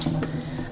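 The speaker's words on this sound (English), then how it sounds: "I'm going to empty out the water that's in here." Water being poured out of the tank of a Bosch Tassimo My Way 2 coffee machine during descaling, a short burst of splashing and trickling into a sink, close and fairly loud.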